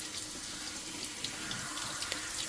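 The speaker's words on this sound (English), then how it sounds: "we're just going to spray some water through it" A steady hiss of water spraying from a tap through a GE Profile washer dryer combo lint filter, continuous and even throughout, with no voices.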